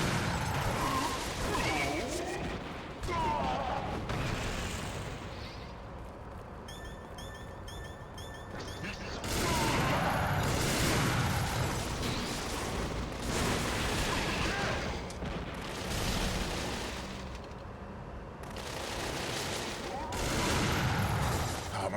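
Gunfire and explosions from the video game Gungrave, with dense, continuous bursts of shots and heavy booms running through the whole stretch, loud and busy, with a short clanking interlude midway.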